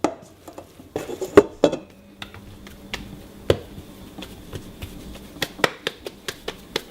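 Butter, flour and milk being combined into mini donut dough in a bowl, sparse clinks and taps of a utensil against the dish with soft scraping between, close and irregular, no talk.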